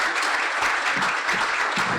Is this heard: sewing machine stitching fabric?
no